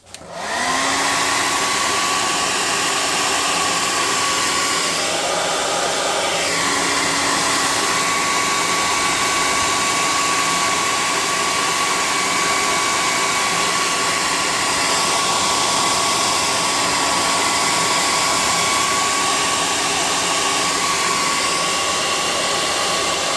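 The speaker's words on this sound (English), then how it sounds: "And then we're going to dry that off with our hot air gun." A hot air gun blows steadily over a handmade tabletop-game craft tent, a loud, constant whooshing whine that starts abruptly and runs unbroken throughout.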